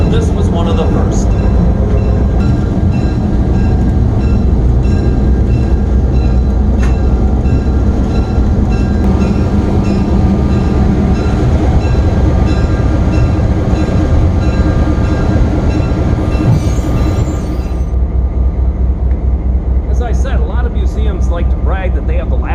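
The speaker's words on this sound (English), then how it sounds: "one of the original diesel-electric locomotives, the Soo Line 320" The Soo Line 320, a 600-horsepower SW1 diesel-electric switcher at a railroad museum, produces a loud, continuous engine rumble with rail clatter and rattling, which eases near the end, and voices are heard underneath.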